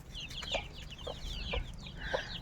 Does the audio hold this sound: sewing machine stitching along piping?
no